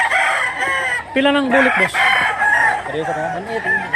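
Roosters crow loudly and repeatedly nearby, overlapping calls from gamefowl including a bulik-colored cock, while a man asks a short question partway through.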